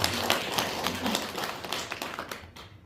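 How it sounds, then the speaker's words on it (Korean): A church congregation claps for its teachers, a dense spread of applause that fades toward the end. "우리 선생님들을 위해서 다시 한번 격려의 박수"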